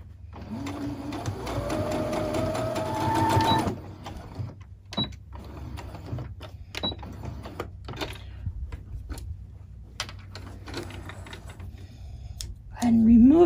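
Sewing machine stitching a fabric carrot drawstring treat bag: a close, fast whirring run of stitches, then quiet clicks and handling while a person talks, and a second short burst of stitching at the end.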